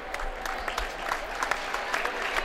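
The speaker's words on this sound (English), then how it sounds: "All of our Ice Bears parents, please be recognized, stand up, and have a round of applause." Steady applause from the crowd at a college ice hockey game between Missouri State and Grand Canyon University, honoring the players' parents during Parents Weekend, with dense sustained clapping throughout.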